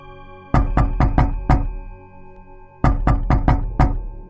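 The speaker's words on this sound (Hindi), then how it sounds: "बाहर से थाप अब तेज हो गई थी।" Heavy knocking on a wooden door for a horror story, two loud close bursts of five sharp thuds each, separated by a short silence.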